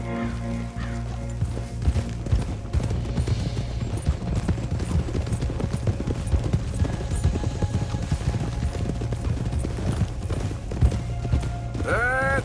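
Horse hooves in Red Dead Redemption 2 clopping in a quick, steady rhythm at moderate volume, under game music and occasional spoken lines.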